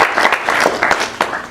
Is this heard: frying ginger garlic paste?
no